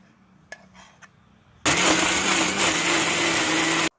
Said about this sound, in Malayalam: ഇനി നമുക്കിതൊന്ന് മിക്സിയിലിട്ട് അടിച്ചെടുക്കാം.